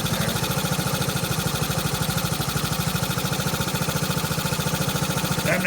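A 1969 Honda CT90 motorcycle engine idles slowly and a bit unevenly, a steady rapid putter of low thumps held close up, with a brief clatter near the end.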